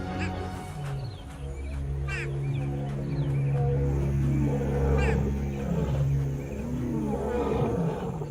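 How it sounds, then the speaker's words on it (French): A pride of lions in Tanzania roars together, deep overlapping roars rising and falling continuously and fairly close, with some bird calls scattered above. "Les rugissements collectifs annoncent que le clan est de nouveau au complet."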